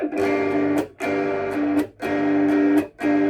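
Electric guitar playing a riff, four loud, distorted, roughly one-second phrases, each broken by a short gap.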